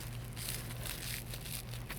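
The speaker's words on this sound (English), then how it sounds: "On these 85s, on the collar areas, you can hear the crunchiness." Crunchy, crinkling crackle from the deteriorated collar padding of 1985 Air Jordan 1 sneakers being squeezed, a steady close papery rustle over a low hum, with no talking.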